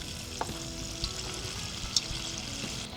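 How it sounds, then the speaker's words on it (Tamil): Vada batter with onion and greens is dropped into hot oil and fries with a steady bubbling sizzle, broken by a few small thuds as pieces go in. "எண்ணெய் காஞ்சிருச்சு, அதில் நம்ம இப்போ போட்டுடுறோம்"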